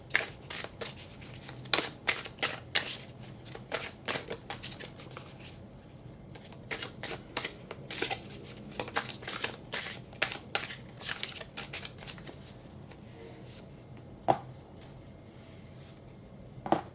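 Art Nouveau tarot cards being shuffled, a steady run of crisp riffling and slapping card sounds, close and fairly loud, with no talking.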